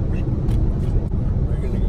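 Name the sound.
car interior driving noise on a road trip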